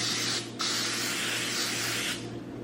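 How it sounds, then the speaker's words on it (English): Olive oil is sprayed onto a muffin tray in two close, loud hissing bursts, the first short and the second longer, separated by a brief pause. "now I'm gonna go ahead and spray down my muffin tray with a little olive"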